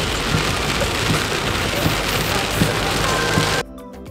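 Heavy rain pours steadily near Lennox Head, a dense, loud hiss of drops on surfaces that carries on without letup and then cuts off abruptly near the end.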